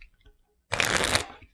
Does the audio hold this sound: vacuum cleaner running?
no